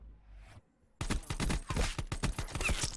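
Rapid automatic gunfire from a Call of Duty Black Ops 4 Heist mode match, a sustained fusillade of sharp repeated shots bursting in loudly after a brief near-silent moment.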